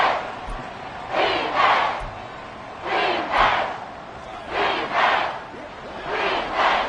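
A Kansas City football stadium crowd roars in repeated loud surges on a third-and-goal play, with swelling waves of cheering rising and falling.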